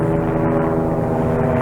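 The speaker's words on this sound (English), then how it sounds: "It must be a helicopter." A helicopter drones overhead at night, a steady loud low rumble with a throbbing tone and no talk.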